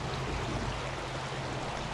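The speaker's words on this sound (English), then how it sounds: "Put the bag in here and let it fill up." Stream water pours and gurgles steadily into a bag held in the current, a dense, close, continuous rushing wash with no voices.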